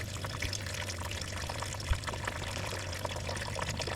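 Coolant drains from the radiator of a 2010 Mazda 3 while it is flushed with water, making a soft, continuous trickle with faint irregular drips and one small knock.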